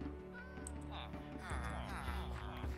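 A cat in the Minecraft video game meows a few times over steady game music and ambient tones, fairly close and clear throughout.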